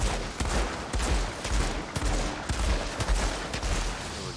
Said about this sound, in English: So we're just emptying both those mags